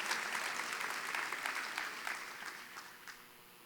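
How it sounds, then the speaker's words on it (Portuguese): A church congregation claps for the Lord during a worship service, steady applause from many hands that slowly fades over a few seconds. "dá uma salva de palmas ao Senhor"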